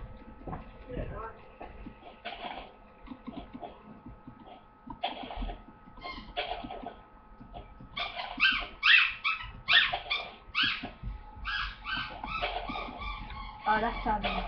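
A dog barks repeatedly in the Minecraft video game, close and rhythmic, in bursts that grow busier in the second half, under ongoing talk from players.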